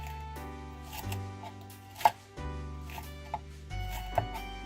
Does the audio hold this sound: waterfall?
no